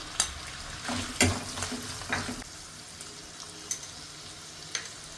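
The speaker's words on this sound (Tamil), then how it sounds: "2 வெங்காயம் அறுத்து வச்சுருக்கேன் சின்னதாக, அது போட்டுக்கலாம். அதுவும் போட்டு நல்லா வணக்கிக்கலாம்." Small chopped onions sautéing in a pan while a spatula stirs them, giving a close, soft sizzle with a few scraping clanks early on that settles to a quieter fry.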